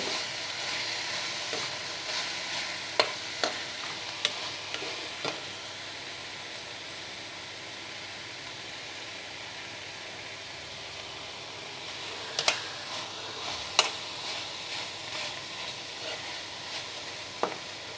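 Okra fries with crushed ginger, garlic and chili for a prawn and okra pulusu, making a continuous close sizzle with occasional sharp spatula taps and scrapes scattered through it, and no voices.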